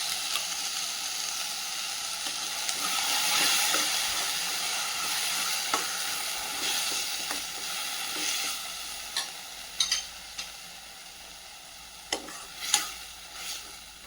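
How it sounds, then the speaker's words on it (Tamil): Ground tomato paste sautés in a pan for egg curry, crackling in a steady close sizzle punctuated by sharp spoon clicks and scrapes as it is stirred, with no one talking. "நல்லா வதக்கி விடுங்க, பச்சை வாசனை போகிற வரைக்கும்."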